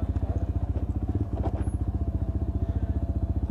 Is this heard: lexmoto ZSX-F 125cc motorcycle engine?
yes